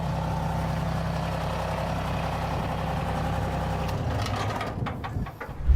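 A brush truck's engine idles with a steady low rumble, which shifts and fades out toward the end as a few clicks and clunks take over.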